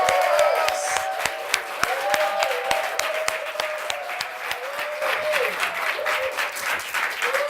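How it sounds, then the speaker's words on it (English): A TV studio audience claps steadily, sharp claps scattered over a dense patter, while a higher voice or melody runs faintly underneath. "Please, a round of applause."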